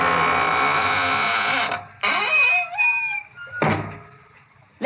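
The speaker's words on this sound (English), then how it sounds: "now it's time to close the squeaking door" Creaky door slowly swung shut in an old radio drama, rising and falling squeaks leading to a solid thunk, then a second heavier closing thump; loud and close over a faint musical bed.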